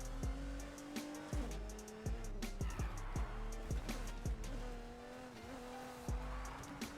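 In the Need for Speed Heat video game, a Chevrolet C10 pickup drifts with a steady engine drone and repeated sharp tire squeals, continuous and loud over several seconds.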